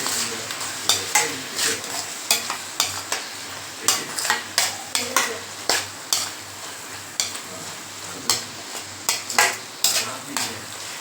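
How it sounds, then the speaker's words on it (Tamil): A spoon stirs chili powder into onion masala frying in a pan for prawn curry, giving repeated scraping and clinking strokes in a loose rhythm over a steady low sizzle, close and fairly loud. "மிளகாத்தூள் போட்டு லைட்டாக கிளறி விடுங்க"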